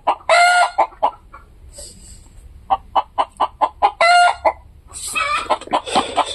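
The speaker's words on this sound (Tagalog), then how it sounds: "Ang ingay po ng manok." Chickens and a rooster cluck and crow close by, loud bursts of crowing broken up by a quick run of sharp rhythmic clucks, busy and noisy with no talking.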